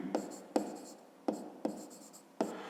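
Pen or pencil strokes on paper while working a fifth-grade maths exercise, a series of five short scratchy bursts at steady intervals, close and fairly quiet, with no talking.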